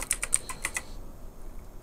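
About seven quick keystrokes click on a computer keyboard as a password is typed, close and crisp, in a fast uneven burst during the first second before falling quiet.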